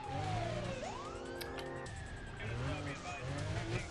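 Police sirens wail and sweep in rising and falling tones over a revving car engine during a chase in the racing game Need for Speed: Undercover, loud and continuous, with someone talking over the action.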